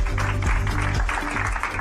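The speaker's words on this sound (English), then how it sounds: "Let's get a rise of applause for Amos Hochstein" An audience at an energy diplomacy conference applauds a speaker being introduced, a continuous wash of clapping over a low, steady musical tone.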